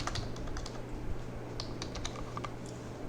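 Fingers tap out a word on a computer keyboard, a quick run of light, close key clicks in bursts over a low steady hum.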